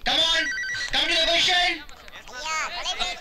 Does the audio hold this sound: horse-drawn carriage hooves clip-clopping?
no